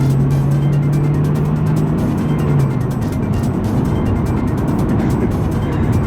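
A Honda Civic cruises at just over 2,000 revs, giving a steady, loud engine and road drone from inside the car, with a low hum that fades after a couple of seconds and no talking.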